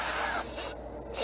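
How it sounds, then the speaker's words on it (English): Olive oil sprayed from a can onto a cooking pan, a hissing spray lasting under a second, a short pause, then a second burst starting at the end. "spray in the olive oil,"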